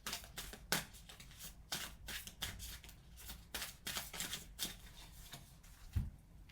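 Tarot cards shuffled before drawing the final card, quiet close riffling and tapping in quick irregular bursts with a soft thump near the end, no talking.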